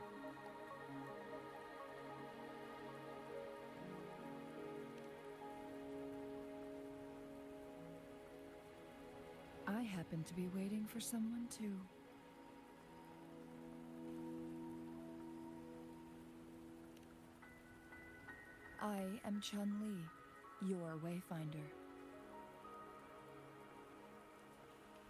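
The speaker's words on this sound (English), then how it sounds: "Are you trapped here by the rain?" Steady rain falls throughout a video game scene, a soft continuous hiss under sustained music tones, with a woman and another character briefly speaking partway through.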